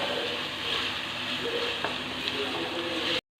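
Green chilies with turmeric powder sizzle and fry in a pan while being stirred, a dense continuous crackling hiss with a few scraping strokes before cutting off abruptly.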